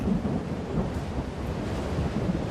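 A cyclone's thunderstorm in Australia gives loud, rolling thunder over the dense, steady roar of heavy rain, with the rumble swelling and easing throughout.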